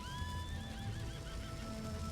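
A horse in the video game Red Dead Redemption 2 lets out a long whinny that wavers and tapers off, clear and close over a low rumbling background, with no one talking.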